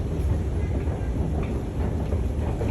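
An Istanbul airport metro train rumbles steadily along the rails, a dense continuous roar with faint rhythmic clatter throughout, heard from inside the car.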